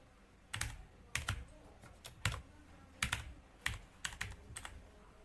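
Keys on a computer keyboard are tapped in short clusters of quick, crisp clicks with small pauses between bursts, close and fairly quiet with no talk over them.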